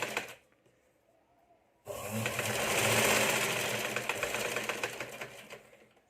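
A sewing machine stitches a katori blouse. After a near-silent start, the motor starts up into a fast, dense whirring run of stitches that lasts several seconds, close and loud, then eases off.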